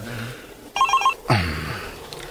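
A cellphone rings with a short electronic ringtone, two close, fairly loud bursts cutting through a quiet room.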